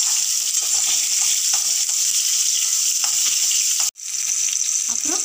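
Food sizzles and fries in a pan over a medium flame for a Maharashtrian thelichi dish, a steady loud hiss with occasional stirring scrapes and one brief break.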